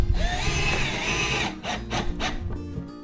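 A power drill driving screws into soft, wet wood for a planter box: a loud, rising whir followed by several short stop-and-go bursts.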